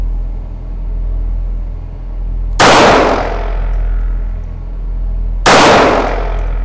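A handgun fires at a target during a pistol assessment, two loud, sharp reports a few seconds apart, each ringing off over a steady low background rumble.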